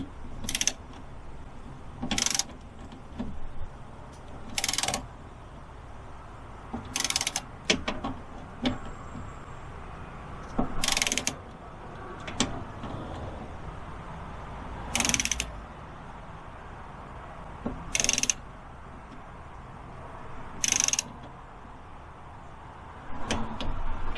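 An impact wrench drives a bolt on the door of a 2012 GMC Sierra 1500 Extended Cab during a window regulator replacement, sounding as a series of short sharp rattling bursts spaced every couple of seconds over a steady low background hum.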